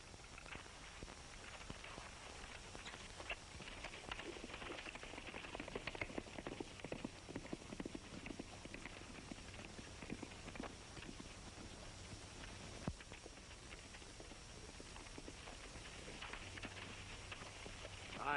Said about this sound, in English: Say, Stoney, how about using your horse? He's faster than mine.